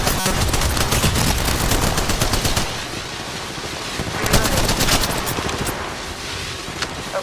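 Rapid automatic gunfire in a video game, loud bursts of closely spaced shots rattling on with brief pauses between volleys.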